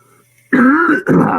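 A person gives a single loud, harsh cough or throat-clear, close up, in two quick bursts after brief quiet.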